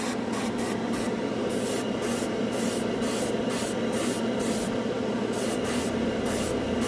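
Alclad candy paint hissing steadily from a spray can or airbrush, a close, continuous spray broken by short bursts and pauses, with no talk.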